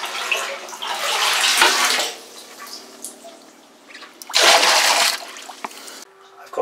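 Water gushes and splashes as it is emptied from a narrowboat's front water tank, coming in two strong surges separated by quieter trickling and dripping.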